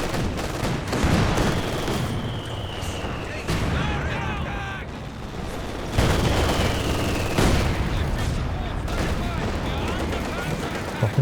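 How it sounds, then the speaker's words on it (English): Incendiary rounds fired in Company of Heroes 2, repeated booming shots and cracks over steady battle noise, loud and close, with a commentator talking throughout. "Dropping the incendiary rounds."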